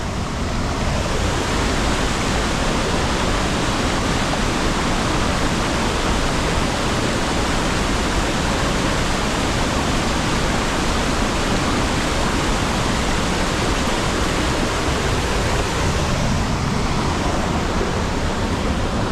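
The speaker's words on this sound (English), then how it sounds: "Isn't that an impressive waterfall?" A powerful waterfall pouring over columnar rock roars steadily and loudly throughout, a dense, unbroken rush of falling water with no voices.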